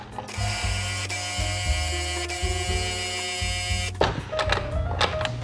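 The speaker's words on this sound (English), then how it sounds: "I'm going to pulse it just a little bit to combine those few things before I add the cold butter." A food processor pulses dry coffee cake ingredients, its motor whirring loudly in short bursts that stop and restart for about four seconds, followed by rattling clatter as the blade coasts and stops.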